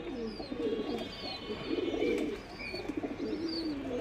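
A Giribaz pigeon coos close by in soft, throaty, repeated phrases, with faint chirps from other birds in the background.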